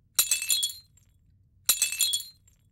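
Glass-cracking sound effect: two short, crisp crackling bursts about a second and a half apart, close and isolated against silence.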